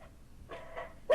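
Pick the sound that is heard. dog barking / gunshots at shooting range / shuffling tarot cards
dog barking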